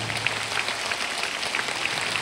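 A concert audience at a Bratya Argirovi 40th-anniversary stage show bursts into brisk applause, a short, bright spatter of many hands clapping at close range without any voices.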